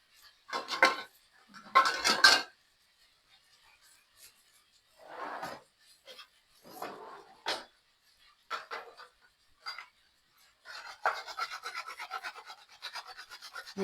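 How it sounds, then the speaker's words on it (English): An unpeeled apple is rubbed against a grater in short rasping bursts, close and fairly quiet, with brief gaps between strokes and a faster run of scraping at the end. "we can now grate our apple."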